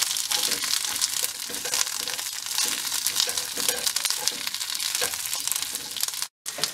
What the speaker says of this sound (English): We've got the oil heated enough that we're going to drop the asparagus in.